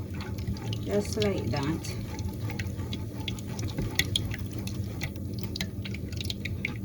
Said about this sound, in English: we're just straining out the apple